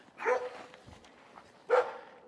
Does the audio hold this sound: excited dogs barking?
yes